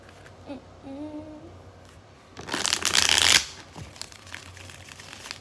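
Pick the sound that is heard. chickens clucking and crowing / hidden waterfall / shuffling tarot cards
shuffling tarot cards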